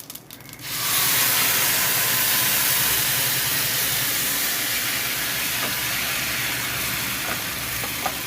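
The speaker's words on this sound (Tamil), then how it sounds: "இதை என்ன பண்ணுங்கள், அப்படியே நம்ம எண்ணெயில் ஊற்றிக்கலாம்." Ground banana stem paste for a chutney hits hot oil in a pan and sets off a loud, steady, broad hiss that starts suddenly after a brief moment and holds until the end.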